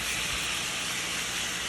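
Seasoned food for rasta pasta hits a hot pan with a loud, dense, steady sizzle that fills the whole brief moment without pause or talk.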